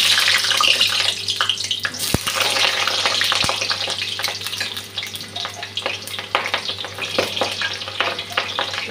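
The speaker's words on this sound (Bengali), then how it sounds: "এখন আলুটা ভেজে নিচ্ছি।" Potatoes frying in a pan while a chicken dish is cooked, a steady close hiss and crackle of sizzling oil with scattered louder pops and occasional utensil clinks, no voices.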